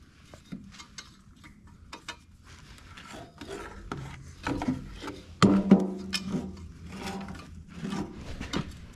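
Metal rasping and scraping as a bolt is worked out of an old Massey Harris tractor on an auction buy, with irregular grinding strokes that grow louder midway, a sharp knock near the middle, close up and without talking.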